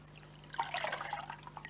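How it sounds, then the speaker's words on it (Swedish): Water poured from a wrung-out cloth into a small glass bowl, a soft trickling splash that starts partway in and dribbles on quietly nearby. "Ja, vi kan hälla det här i vår lilla glasbalja."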